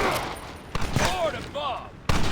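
Gunfire in the Red Dead Redemption video game, Dutch mission with a machine gun: a few sharp shots spread across the moment, with voices and shouting between them.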